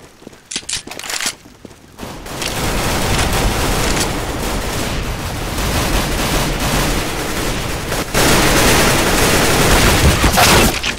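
Counter-Strike: Global Offensive gunfire on the Aztec map: a few sharp opening cracks, then a long dense stretch of sustained rapid shooting and fusillade, loud and continuous, swelling again near the end.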